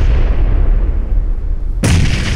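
A grenade blast in a PUBG match, a loud broadband burst that cuts in sharply near the end over a dense rumbling battle background, close and forceful.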